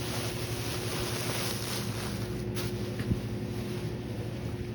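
Clothes dryers running in a laundromat: a steady, loud mechanical hum and drone with a low tonal rumble, constant throughout, with a faint knock near the end and no speech.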